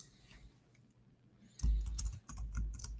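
Close, quick keystrokes on a computer keyboard as a file name is typed, starting after a quiet pause and continuing as a dense cluster of clicks.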